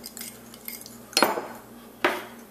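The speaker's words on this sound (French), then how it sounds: "On brasse l'œuf." An egg being beaten in a bowl while making whole-wheat or white Kayser bread rolls: two sharp clinks of utensil on dish with faint scraping between, close and otherwise quiet.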